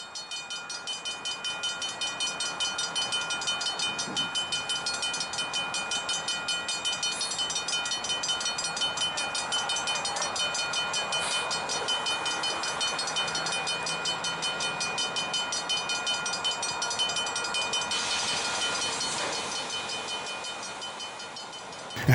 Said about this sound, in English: the engine runs around its train and shoves back, caboose first, across San Fernando Road.